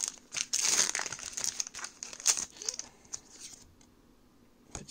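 Crinkly plastic wrapper of a Pokémon card booster pack torn open by hand, with close, loud crackling and rustling bursts, busiest at first, then fading into sparse crinkles.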